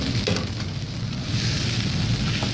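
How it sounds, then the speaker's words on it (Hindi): Potato masala mixture for dosa filling, seasoned with chili powder, turmeric and salt, fries in a pan with a steady, close hiss and sizzle that holds evenly throughout, with no talking. "ये अच्छी तरीके से जो है आलू का मिक्सचर बिल्कुल अच्छी तरीके से फ्राई हो गया है"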